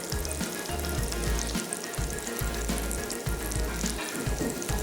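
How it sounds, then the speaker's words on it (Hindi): Onion frying in a pan while being softened lightly produces a steady, close sizzle with occasional stirring scrapes and low thumps underneath, continuous throughout with no talking. "चलें, ये गई प्याज, हल्का सॉफ्ट करना है"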